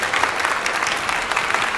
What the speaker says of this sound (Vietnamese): Vỗ tay cho Duy Khương.